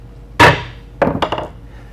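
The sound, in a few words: tapping a chisel into wood to mark a mortise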